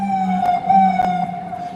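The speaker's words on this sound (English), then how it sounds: "One thing you could count on is these sirens to be going off while you talking." Emergency vehicle sirens wail outdoors, a loud steady tone with slight pitch drift, heard alone without talking.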